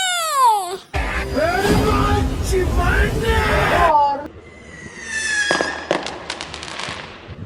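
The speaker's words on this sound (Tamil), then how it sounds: "பாத்ரூம்ல இருந்து வெடி வெடிக்கிற சத்தம் கேக்கு" Diwali firecrackers burst and crackle loudly among whistling, rising tones and excited voices, with abrupt shifts between noisy, chaotic bursts.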